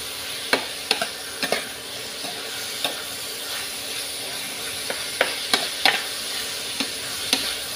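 Stirring food as it fries in a pan, with a steady sizzle and hiss throughout and sharp scraping clicks of the utensil against the pan recurring every second or so.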